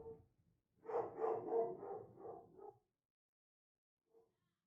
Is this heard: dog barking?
yes